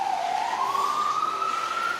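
An ambulance siren wails steadily as it passes along a city street in Ridgewood, Queens, New York, its tone sliding gradually upward, loud and continuous over the full two seconds.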